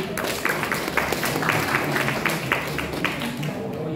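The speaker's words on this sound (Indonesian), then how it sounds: "Tepuk tangan dulu untuk adik." A family gathering at Jungwok in Gunung Kidul, Indonesia, claps together, a moderate patter of hands with faint voices underneath.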